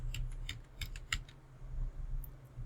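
Keys tapped on a computer keyboard while a password is entered, a short cluster of light quick clicks followed by a couple of isolated taps, close but quiet over a low hum, no talking.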